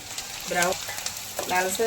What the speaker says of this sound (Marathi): 1 कांदा मी बारीक मिक्सर पॉट मधून बारीक करून घेतलेला आहे आणि 2 कांदे तेलामध्ये होऊ देत आहे